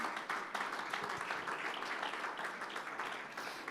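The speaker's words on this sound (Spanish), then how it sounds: "Fuerte ese aplauso de alabanza al Señor" A church congregation claps in praise to the Lord during a service, giving a steady wash of applause that is fairly faint and distant and fills the whole moment.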